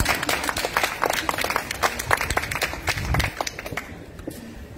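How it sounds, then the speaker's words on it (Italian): Audience at an Italian book presentation breaks into scattered clapping, a dense patter of hands that thins out and fades toward the end. "potete fare un applauso"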